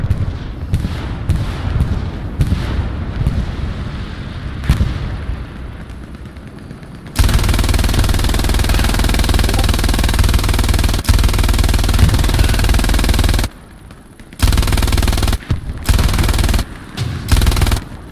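Artillery rounds fire and land in a military shooter match, with continuous heavy gunfire and booming impacts filling the scene, loud and sustained, then breaking into short bursts near the end.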